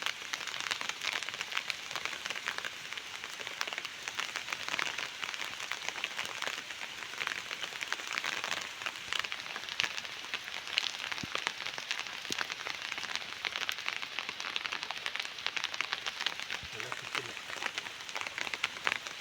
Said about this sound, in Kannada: ಮಳೆ ಫುಲ್ ಜೋರಾಗ್ತಾ ಇದೆ